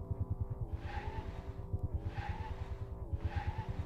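A car drifting with squealing tire skid in the Deathwire video game, a rapid pulsing engine rumble under repeated rising-and-falling screeches, fairly faint and without talk.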